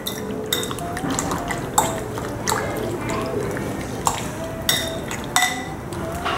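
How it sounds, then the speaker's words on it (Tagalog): Egg being stirred into pork pieces in a bowl, with wet squelching and light clinks of utensil against the bowl at irregular moments, over a steady low background. "haluin lang natin ng maigi para maging even yung paglalagay natin ng egg dito sa ating pork"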